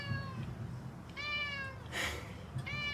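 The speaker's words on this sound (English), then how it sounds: "Hi, kitty." A cat meows three times, short clear cries spaced about a second apart against a low background hum of a city street, with a brief sharp noise between calls.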